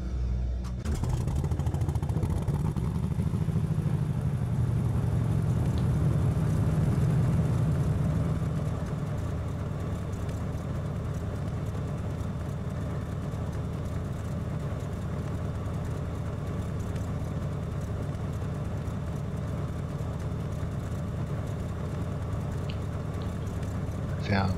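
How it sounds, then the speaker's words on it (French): Engine of a Cessna Turbo Centurion light aircraft starting up, a steady loud droning rumble that settles into a constant idle, with a voice speaking over it. "Démarrage des moteurs."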